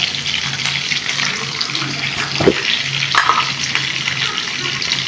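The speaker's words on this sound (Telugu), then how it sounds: "ఈ విధంగా వేగిన తర్వాత ఇందులోనైతే బెండకాయలు వేసుకుందాము" Okra (bendakaya) fries in a pan, giving a loud, continuous sizzling hiss with a couple of sharper clinks and stirring sounds mixed in.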